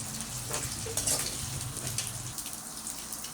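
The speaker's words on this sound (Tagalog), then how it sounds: "Palalabasin natin yung mantika niya. Tumatamsik-talsik na siya." Meat frying in a pan as its fat renders, a steady close sizzle with scattered crackles and pops of spattering grease, with no talk.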